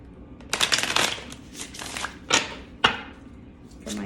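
Tarot love cards shuffled by hand in several quick bursts, with crisp riffling and flicking swishes separated by brief pauses, close and fairly loud.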